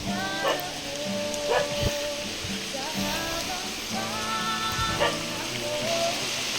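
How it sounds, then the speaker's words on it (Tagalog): Steady, dense rainfall pours down on a mountainside forest throughout, with a dog barking a few times in the background and faint voices. "lakas po ng ulan"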